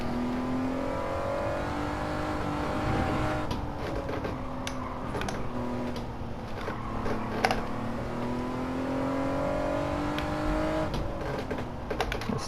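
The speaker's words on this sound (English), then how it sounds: "There's a four-wheel drift there." Gran Turismo 7 gameplay of a car in a four-wheel drift, the engine note rising and falling through the slide with steady revving, accompanied by clicking controller or keyboard taps throughout.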